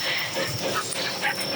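A dog in a park in Tranqueras gives soft whimpers and small yips close by, mixed with a continuous outdoor hiss.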